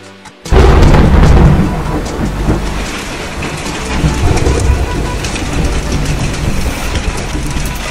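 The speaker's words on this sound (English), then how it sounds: "recently, y'all got a major hailstorm." A major Texas hailstorm pelts a Tesla Solar Roof, with ping-pong to golf-ball-size stones. It sets in abruptly as a loud, dense, continuous roar of impacts and stays heavy and steady throughout.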